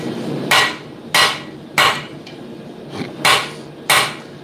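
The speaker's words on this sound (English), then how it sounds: "Where'd my hammer go? There it is." A blacksmith's hammer strikes hot metal while drawing out material at the forge, six sharp ringing blows spaced about half a second apart with one brief pause, loud and close, no talking.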